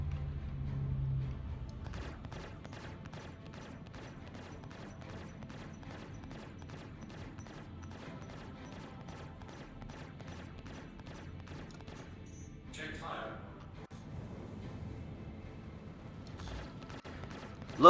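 Repeated weapon fire in Star Citizen: a long, fast, even train of faint shots rattling on at a steady pace, with a brief swooping sound partway through and a sharp hit at the very end.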